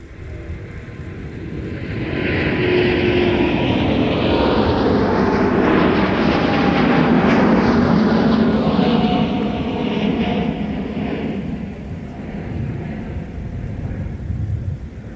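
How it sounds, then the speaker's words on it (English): A Sun Country airliner taxis out to depart at MSP airport, its jet engines a steady, loud roar that swells as it passes nearby and then eases away. "Looks like Sun Country also hustling out to 30 left to depart."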